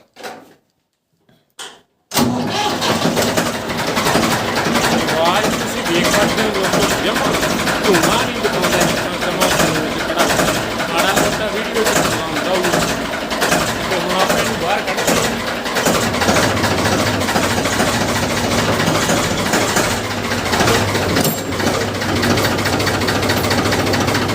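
A 1984 Ford 3600 tractor engine cranks with a few brief bursts, then catches and settles into a loud, steady diesel idle that runs on, heard close up.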